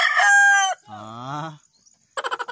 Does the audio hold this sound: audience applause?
no